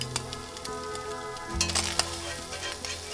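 Food sizzles and crisps in a hot pan, a bright steady frying hiss with small ticking pops, swelling louder and busier halfway through as pieces are flipped.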